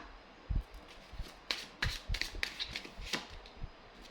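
Tarot cards being shuffled by hand, a quiet run of soft riffling bursts and taps at an uneven rhythm, close and faint, with no talking.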